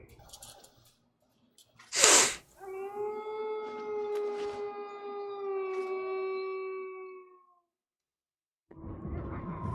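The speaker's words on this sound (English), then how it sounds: "What kind of alarm is that? The alarm sounds very weird." A strange wailing alarm in the video game Metal Gear Solid 2, a sharp burst followed by a sustained, steady tonal howl that fades out, with a brief stretch of silence before another sound starts.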